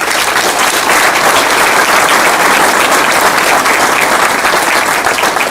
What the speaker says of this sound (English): Please give yourselves a big round of applause for the support that you give this organization and its partners.